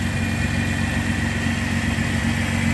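A 2006 Hyundai Sonata's 3.3 V6 engine runs with a deep, throaty, louder-than-stock exhaust rumble, steady and close, holding an even idle without any talk.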